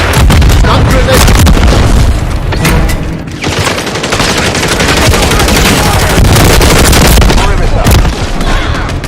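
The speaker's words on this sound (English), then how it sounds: "Throwing a stun grenade." Call of Duty combat with a stun grenade thrown amid loud, dense machine-gun fire, booms and explosive bursts, sustained and chaotic throughout, with voices speaking over the battle noise.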